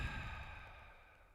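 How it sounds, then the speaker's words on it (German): A single long, deep breath is pushed out through the mouth during a yoga session, a soft airy rush that slowly fades away. "Wir atmen tief ein, durch den Mund aus."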